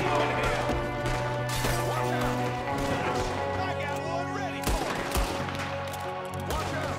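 Gunfire in Red Dead Redemption 2: sharp shots and crashing impacts scattered through the clip over a steady game music bed.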